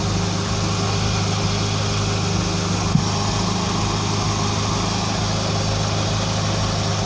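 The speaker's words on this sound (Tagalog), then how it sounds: "So pag wala ito, yun, kita nyo, medyo shaky yung ating makina." A car engine idles with the air conditioning on, its steady hum carrying a faint rhythmic pulsing and a single brief knock midway, close and continuous with no voices.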